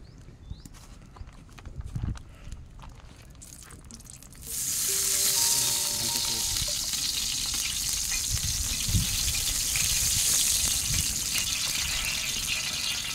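White onions dropped into heated oil burst into a loud, steady sizzle at about the four-second mark, after quieter clatter of pan handling, and the frying hiss carries on without a break to the end.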